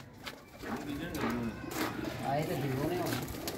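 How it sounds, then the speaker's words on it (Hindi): Pigeons coo softly from inside a rooftop coop, low rolling calls half buried beneath someone talking close to the microphone throughout. "ये कुछ अंदर अपने कबूतर हैं दोस्तों"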